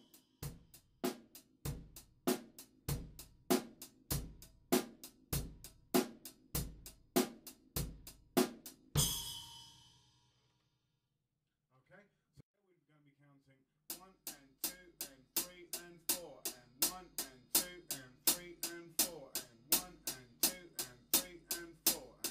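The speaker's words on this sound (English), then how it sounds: "you know the basic 8th note rock groove. It sounds like this." A basic 8th-note rock groove on a drum kit, with even hi-hat strokes over kick and snare, played loud and close; it stops briefly with a faint pause, then the same groove resumes.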